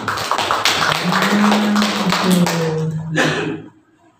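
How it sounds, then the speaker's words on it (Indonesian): Audience applause at a madrasah supervisors' coaching session at MTsN 3 Kota Kediri, a dense burst of clapping for about three and a half seconds over a low steady hum, then fading quickly to quiet. "Maka boleh dong aplaus untuk Anda semua."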